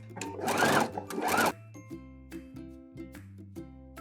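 Sewing machine back-stitching over torn, stretchy lace: a loud rapid stitching burst for about a second and a half, then quieter short stops and starts with a steady motor hum.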